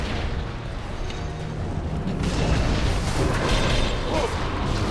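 Enemy gunfire in World of Warcraft: Wrath of the Lich King Classic, heard as a dense, continuous rumble of booming blasts and mechanical clatter that swells slightly louder midway, loud and close throughout.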